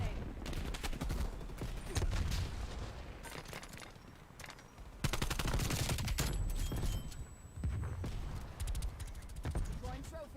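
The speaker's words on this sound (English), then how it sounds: "Throwing frag grenade." A frag grenade thrown amid gunfire in a video game, with dense rapid shots and blasts throughout, rising in loudness partway through, under a talking voice.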